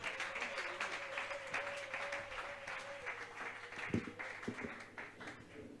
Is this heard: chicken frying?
no